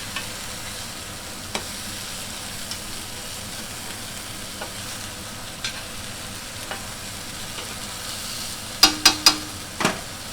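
Chicken pieces browning in a frying pan for a spiced red sauce dish give a steady low sizzle with no talk, and a few sharp utensil clicks land close together near the end.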